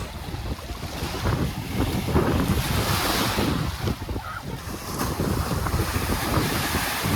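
Mediterranean sea waves at Tabarka island, a steady, loud wash of surf close by with wind buffeting the microphone throughout, no voices.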